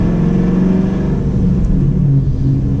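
A 2015 Chevrolet Camaro SS with an Eaton TrueTrac differential cruises on a back road, its engine giving a loud, steady low rumble from inside the car.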